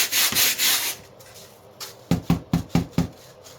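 Gritty rubbing and scraping as foam is sanded with a spatula, first in a few long strokes, then a quick run of five short sharp scrapes, close by.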